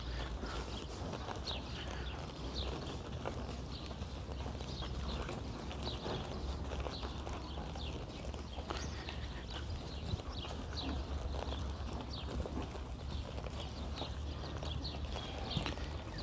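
A horse pivots in training, its hooves making soft, irregular clip-clop thuds on the ground, faint and somewhat distant under a steady outdoor hiss.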